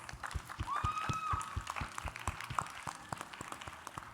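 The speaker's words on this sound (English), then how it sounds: "Please, can you give my panel a massive round of applause?" A live panel audience at a music festival gives a round of applause, scattered claps at moderate distance with a whistle or cheer rising briefly above the crowd.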